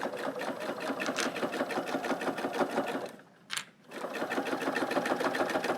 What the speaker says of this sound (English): So all I'm doing is matching my two folded ends and stitching a 1/4-inch seam allowance.